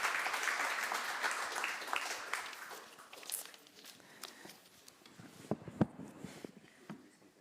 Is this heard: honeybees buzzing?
no